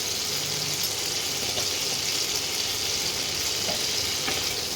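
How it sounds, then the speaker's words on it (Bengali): Whole garam masala and cumin seeds sizzle in hot oil in a pan on an induction cooktop, a steady broadband hiss that stays even throughout with no talking. "এবার এর মধ্যে ফোড়নে দেব গোটা গরম মশলা"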